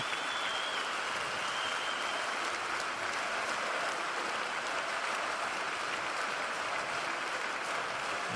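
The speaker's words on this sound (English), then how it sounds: "And now it is time for the last applause for Czech Republic in the men's tournament." A crowd at a men's ball hockey bronze medal match between Czechia and Canada applauds the Czech team, sustained, dense clapping that stays loud and even throughout.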